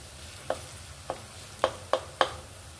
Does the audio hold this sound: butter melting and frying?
yes